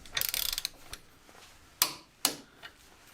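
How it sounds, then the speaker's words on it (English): Ratchet with a 16mm socket tightening the engine carrier bracket bolts on an R50 MINI Cooper: a quick run of close metallic clicks followed by a few separate sharp snaps as the bolts pull tight. "that's 16mm socket, and again we torque these to 100 Newton meters"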